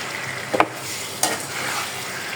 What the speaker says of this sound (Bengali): এখন এটাকে আমি ভালোভাবে কষাবো।